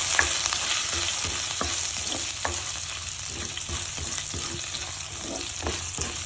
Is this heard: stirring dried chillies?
yes